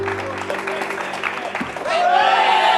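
A TV show audience breaks into applause, which swells and grows louder partway through, with voices and music-like tones underneath.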